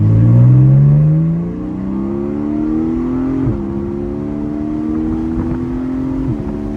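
A Porsche accelerates hard from a rolling start near 30 mph, its loud engine note climbing steadily in pitch, then dropping abruptly at two quick paddle upshifts before rising again, heard close from inside without talk.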